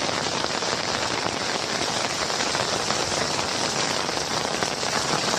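Torrential rain pours over Kalyan in an unbroken roar of heavy drops striking surfaces close by, loud and steady throughout, with no one speaking.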